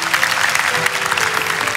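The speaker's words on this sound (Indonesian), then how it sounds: "beri tepuk tangan untuk Tuhan" A church congregation claps during a sermon, a dense, steady wash of applause that stays loud from start to finish with no voices standing out.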